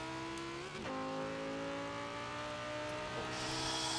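A game car in Forza Horizon 4, driven with a cheap plastic controller wheel, accelerates with a loud, steady engine drone that climbs through gear shifts, sitting close and constant with no talk.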